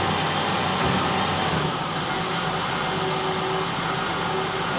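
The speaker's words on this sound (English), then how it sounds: "you can hear it just falls flat. It won't hardly run when I accelerate." A car engine in limp mode runs in gear with the brake held and the throttle pressed, giving a steady, loud, flat drone that never climbs in pitch.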